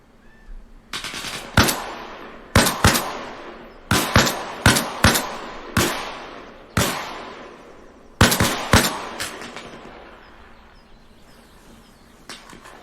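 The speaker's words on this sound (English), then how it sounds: "Jeffries is back up now because I can hear him shooting" Rifle fire from a nearby teammate in the military shooter Arma Reforger, roughly a dozen sharp loud shots in uneven bursts with echoing tails, then quiet ambience.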